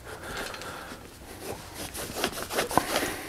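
Cloth wiping and polishing a Trek 7.2 FX bicycle gives soft, uneven rubbing and scraping strokes, close by, that grow a little busier toward the end, with no one speaking.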